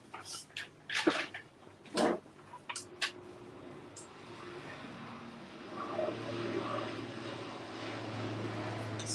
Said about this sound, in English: Sorry about the plane coming in.